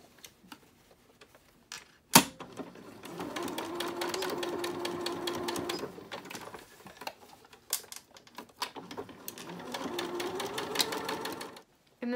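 A sewing machine top stitches fabric on a homemade face mask, running in two steady bursts of rapid mechanical clatter separated by a short pause, close and fairly quiet.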